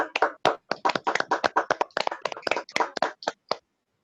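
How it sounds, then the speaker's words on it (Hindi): Loud, close burst of hand clapping from an audience at a direct selling business talk, a rapid run of sharp claps lasting about three and a half seconds before stopping abruptly. No voices over it. "सर के लिए एक बार जोरदार तालियां हो जाए"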